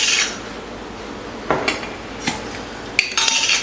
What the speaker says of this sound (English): So I'm gonna start putting some lasagna noodles in.